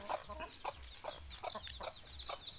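Pet chickens scratch and forage under trees, giving soft repeated clucks and rustling at low volume in an outdoor setting.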